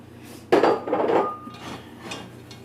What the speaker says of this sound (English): 3 tablespoons of flour. We just add it all in there. Alright, and then you just mix it in.